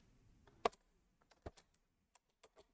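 Sparse keystrokes on a computer keyboard as code is entered, a handful of close, quiet clicks spaced irregularly with pauses between them.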